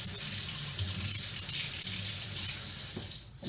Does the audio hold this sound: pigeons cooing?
no